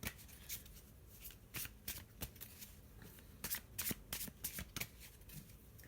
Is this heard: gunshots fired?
no